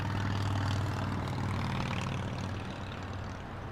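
A Cargolux cargo plane departs Los Angeles International Airport bound for Luxembourg, its engines a steady, loud low rumble that eases slightly toward the end.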